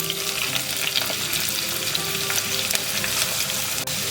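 Onion and curry leaves, added with green chillies to a hot pan for vegetable stew, fry with a dense, steady crackling sizzle, close up, with a few stirring scrapes and no speech.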